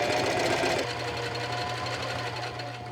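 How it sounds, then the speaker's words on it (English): A sewing machine running steadily as it stitches the fabric inner lining of an up-cycled shirt, a close, even mechanical whir with a faint rhythmic tick, with no voices. "I finished sewing it"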